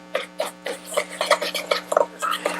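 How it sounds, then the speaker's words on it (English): A spoon stirs breadcrumbs and butter together in a bowl, giving quick repeated scraping and rasping strokes, close and fairly loud, with a steady hum underneath. "Just give them a quick stir."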